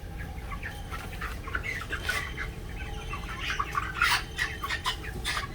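Broiler chickens cluck and squawk in a barn while one is being caught, a busy chorus of overlapping clucks and sharp calls over a constant low hum, with no talking.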